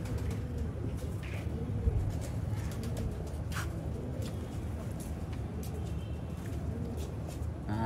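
Pigeons coo over and over at a loft, with soft, steady calls close by in a busy setting where faint traffic hums behind them.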